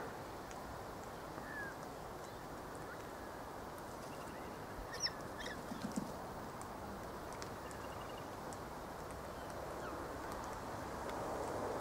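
Galahs calling on a cold winter afternoon in Australia, scattered squawks and chattering from a flock at a distance over a steady rushing background.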